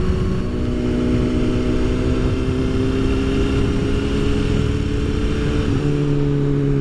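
Motorcycle owned for ten years being ridden, a steady droning engine hum with constant wind rush and a slight pitch drop near the end, close and continuous with no talk.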